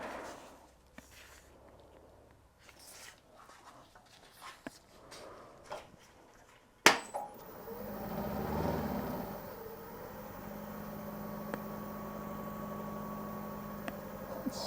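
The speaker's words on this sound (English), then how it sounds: "I'm going to start with my 1/2 inch gouge." Wood lathe spinning up at 700 RPM after a sharp click, a steady whirring drone with faint cutting noise from a 1/2 inch gouge on a tree log, preceded by quiet shuffling and handling sounds.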